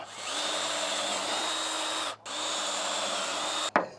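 A power drill bores holes through a trailer near the tailgate, whining steadily for about two seconds, pausing briefly, then running again before cutting off with a short clatter; close and loud, no talk.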